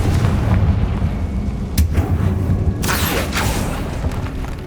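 Confringo spell explosion in the Hogwarts Legacy video game: a loud, deep rumbling blast over steady low game ambience, then sharp bursts and crackling debris.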